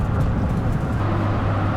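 Steady low engine and road rumble from inside a moving car, continuous and fairly loud, with no clear talking over it.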